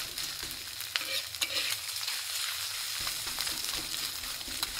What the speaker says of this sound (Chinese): 再开大火炒起来， 一边翻炒一边用铲子把米饭压开